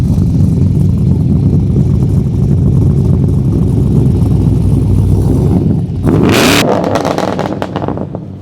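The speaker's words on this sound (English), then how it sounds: "he's going to start up the sweet VF, mate, and you'll see a bit of action as he leaves the car park" A supercharged V8 Holden VF SS drives off from a car park, its engine rumbling steadily up close before a sharp rev and a burst of tyre squeal near the end.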